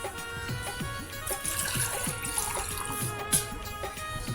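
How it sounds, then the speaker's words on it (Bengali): Water pours and trickles steadily at low volume, as if into a vessel or basin, with faint voices in the background. "আগে পানি দাও"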